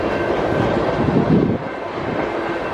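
A long train rolls steadily past a level crossing, a continuous close rumble with faint rail clatter and no break across the span.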